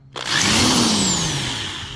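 Power drill boring out teak bungs on the exterior trim of a 1985 Catalina 25 sailboat, a loud continuous whir with a slowly falling motor pitch after a quick spin-up, steady grinding into the wood throughout.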